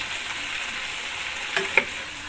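Frying sizzles in a pan as string beans are tossed into hot oil with onion, a steady hiss broken by a couple of sharp clinks and scrapes from a utensil near the end, close by with no voices.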